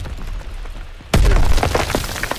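A thrown grenade detonates in Call of Duty: WWII, giving one sudden loud blast with a deep boom and crackling debris, after a stretch of quieter battlefield background.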